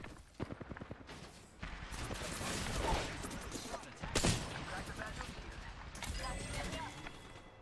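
Gunfire in Apex Legends comes as rapid bursts of sharp shots, some close and loud, with a sudden heavy blast midway, under a busy mix of game noise and someone talking.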